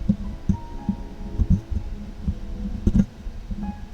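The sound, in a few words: microphone being tightened, handling noise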